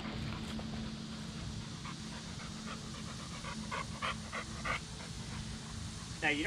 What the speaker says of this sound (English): My dogs wanna be all up in the way.